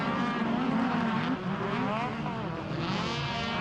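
Pro stock race cars at US Air Motorsports Park, moving from an asphalt section onto a dirt section, heard as a steady blended roar of several engines from a moderate distance with rising and falling revs.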